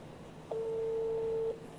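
A single steady telephone tone sounds for about one second during a bank scholarship draw phone call, moderately loud and clean against a faint background hiss, with no voices.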